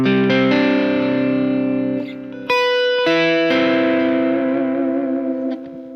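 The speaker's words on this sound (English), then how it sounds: "Now, how does this sound with the delay?" Overdriven electric guitar through a double treble mid-boost pedal with delay, sustained chords ringing loud and thick with repeating echoes trailing behind each strum.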